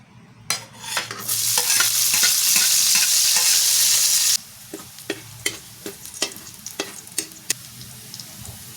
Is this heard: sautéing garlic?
yes